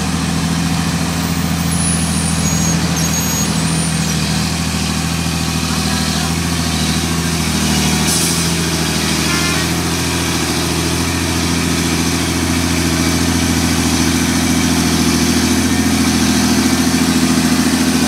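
A vehicle engine labouring up the steep Khamcha uphill road near Barhabise, a loud, steady, low droning rumble that holds close and unbroken throughout, with no talking.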